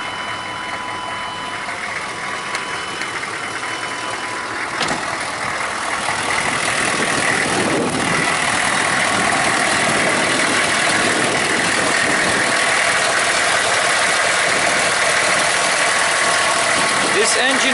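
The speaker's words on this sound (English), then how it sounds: "This engine is a lot quieter than some of my other engines, and I think it's because it's really new" A brand-new engine in a white 4x4 veggie truck fitted with a heavy-duty one-tank conversion idles steadily and fairly quietly close by, a smooth continuous hum throughout with occasional small knocks.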